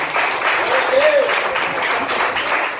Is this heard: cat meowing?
no